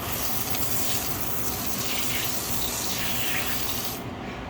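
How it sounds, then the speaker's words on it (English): A SOLO 301 pump foamer sprays dry foam in a continuous close hissing, gushing stream that cuts off abruptly near the end. "I'll adjust the foam as it sprays."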